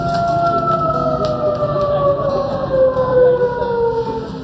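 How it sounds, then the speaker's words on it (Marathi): A village study siren sounds at 7 pm with a loud, continuous wailing tone that slowly slides lower in pitch over a few seconds. "कारण हा आवाज असतो भोंग्याचा, सायरनचा, आणि हा भोंगा आहे अभ्यासाचा भोंगा"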